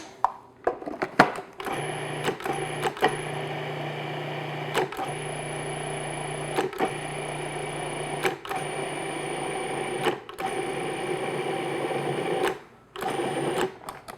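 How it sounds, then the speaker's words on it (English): A food processor blending sweet potato pie filling runs with a steady whir, stopping and restarting several times in short pulses, close by and fairly quiet. "Make sure you get in the corners of your food processor."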